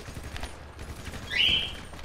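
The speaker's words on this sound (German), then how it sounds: "Schießt da irgendjemand mit Granaten durch die Gegend." Explosive grenade fire in the online mode of the video game GTA V, heard as a broad burst of noise with a brighter rush near the middle, set against steady background game sound at moderate loudness.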